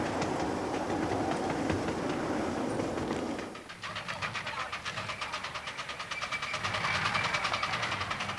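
A miniature steam railway train clatters past in a garden with rhythmic clicking on the rails. A steady rumble gives way to quick, regular clacks, and birds are faintly audible.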